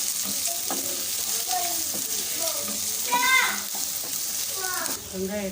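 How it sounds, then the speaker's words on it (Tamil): Sliced onions and green chillies fry in hot oil, a soft steady sizzle running underneath a voice talking throughout. "வெங்காயம் வந்து ரெண்டுலேருந்து மூணு நிமிஷத்துக்கு வதங்கட்டும்"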